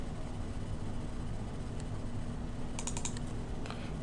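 Steady light clatter of keys on a computer keyboard while a Tableau formula is entered, quiet and close over a constant low background hum, with a brief cluster of crisper clicks near the end.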